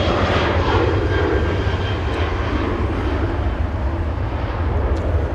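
A SkyWest jet airliner departing for Las Vegas rumbles loudly and steadily, its deep engine roar dominating with low throbbing pulses and no voices over it.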